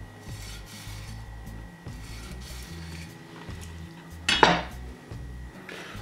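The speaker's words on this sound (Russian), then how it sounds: "сгибаем кусок рыбы вот таким образом и делаем несколько надрезов по коже" A knife scores several cuts through the skin of a folded piece of trout on a board, a brief close rasping scrape standing out from quiet kitchen background.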